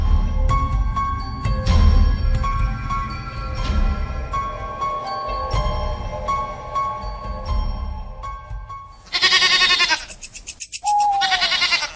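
Goats bleat in a few loud, wavering calls close by, following a stretch of steady music.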